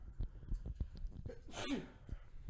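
A single sharp sneeze bursts out midway, loud and close, amid soft clicks and quiet background shuffling.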